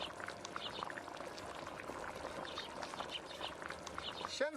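Hot pot broth with tofu, mushrooms and greens bubbles at a steady rolling boil, a continuous busy gurgle heard close, with voices talking over it.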